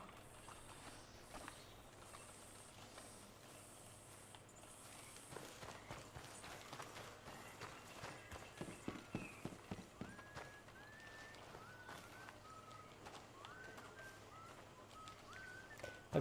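Horse hooves clip-clop in Red Dead Redemption 2, a steady run of hoofbeats under game music and ambience, peaking into a quick rhythmic burst mid-clip before settling back.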